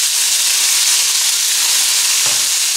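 Carrot, beans and peas sautéing in a hot pan give a steady, loud broadband sizzle, with a brief stirring scrape near the end.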